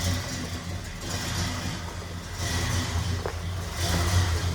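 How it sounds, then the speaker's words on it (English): A 1969 Oldsmobile Cutlass S convertible engine idles and revs moderately with a throaty rumble from a brand new exhaust, swelling in loudness a couple of times. "Car sounds great. Like I say, it's got brand new exhaust on it."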